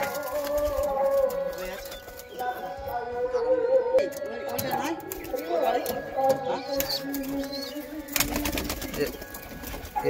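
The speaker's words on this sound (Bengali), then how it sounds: "সুন্দর সুন্দর পায়রা আছে" Mostly tumbler-type pigeons in a loft coo in low, repeated rumbles under close talking, with rustling, handling noise and brief sharp knocks breaking in.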